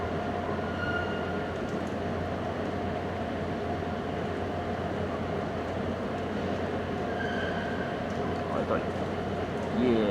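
Rumbling train rolling past through a station with a steady rail roar, brief high squeals near the end, and voices talking faintly underneath.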